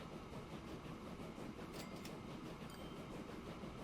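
A train runs along the track in the railway simulation game Transport Fever 2, giving a faint, steady rolling rumble with no talk.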